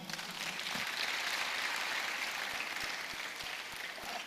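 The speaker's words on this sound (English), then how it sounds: "Please, let's applaud him." Audience applause at a tech-themed school event, a steady, moderately faint wash of clapping that holds for several seconds without talk.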